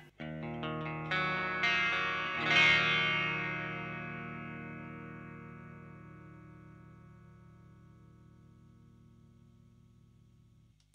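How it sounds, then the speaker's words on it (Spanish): Clean tone from a Fender Stratocaster on its bridge pickup through a Marshall DSL-20 amplifier with a Wampler Sovereign pedal, miked with an SM57: a strummed chord rings out and slowly decays over several seconds. "Acá estamos con el Wampler Sovereign y este es mi sonido limpio."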